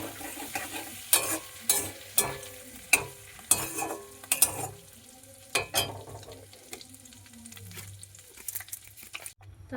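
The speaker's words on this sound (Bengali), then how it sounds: "তারপরে এই যে গোটা গরম মশলা ফোড়নে দিয়ে দেবো।" Whole garam masala spices sizzle in hot oil and butter, with a soft frying hiss broken by a run of sharp, rhythmic stirring scrapes and clacks from a spoon against the pan.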